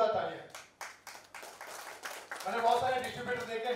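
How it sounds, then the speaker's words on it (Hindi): Loud clapping from an audience at a film music launch, a run of sharp claps that swells into a denser burst toward the end, with voices mixed in. "जोरदार तालियां"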